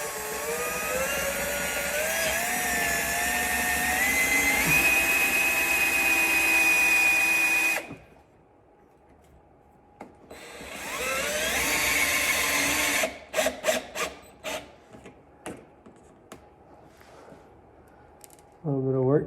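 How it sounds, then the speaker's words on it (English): A cordless power tool whines continuously as it drives 8 mm self-tapping screws into a Maxton front splitter on a Porsche Cayman S 987.1, then stops; short bursts and clicks of the tool follow after a pause. "we're gonna put the self-tapping screws in. They are an 8 mil, so I just put it on my gun here"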